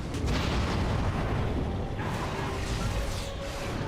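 A booming explosion from the fantasy role-playing game Dragon Age: Origins, a dense continuous rumble with crackling debris that stays loud throughout and fades only slightly toward the end.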